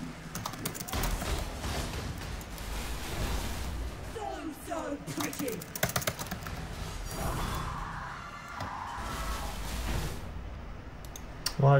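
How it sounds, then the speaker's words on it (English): Keyboard tab key clicked repeatedly while playing Path of Exile: close, quick clusters of key taps and clicks over faint game sounds, with brief voice moments in between. "Sorry for tabbing so much, it's just a bad mapping habit of mine."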